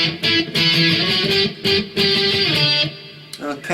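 Distorted electric guitar chugs through the opening part of a pop-punk verse, loud and steady with brief gaps between phrases.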